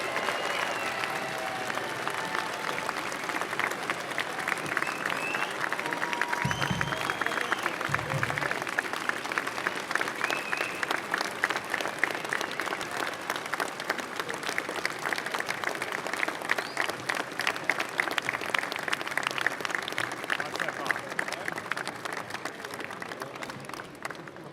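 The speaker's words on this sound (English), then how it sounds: "how about a big round of applause for all of this year's medal winners?" Sustained applause fills a large hall for the medal winners at the FDNY Medal Day ceremony, with dense, rapid clapping from many hands that holds steady and loud for about twenty-five seconds.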